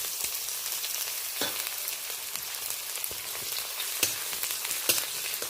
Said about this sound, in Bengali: এই পর্যায়ে আমি কেটে রাখা পেঁয়াজটা দিয়ে দিলাম